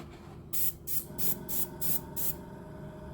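Short bursts of spray paint hiss onto a model of HMS Queen Elizabeth, six quick pulses in a row followed by a faint hiss, quiet and close with no talking.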